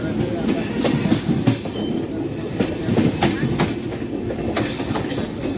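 Train 22738 rolling into Akola junction, a loud, close rumble with repeated clickety-clack wheel beats and light squeals, running steadily throughout.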